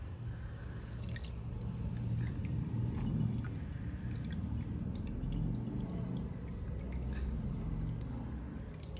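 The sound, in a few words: water poured over a Gopal idol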